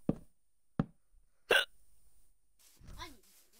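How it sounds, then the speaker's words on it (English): Sharp, sudden hiccups from a person, three abrupt close jolts about a second apart, followed by a faint voiced murmur. "Oh god, I'm hiccuping now, which is quite a bad thing"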